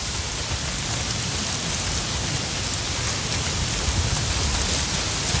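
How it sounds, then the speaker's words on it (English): Heavy rain pours steadily in Red Dead Redemption 2, a dense, constant hiss of drops on surfaces filling the scene from start to finish with no pause. "Not if it's pissing down rain."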